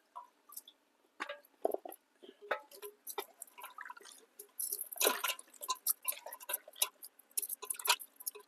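Okra being washed by hand in water, irregular close drips, splashes and wet squishing handling sounds with small clicks, quiet and without voices.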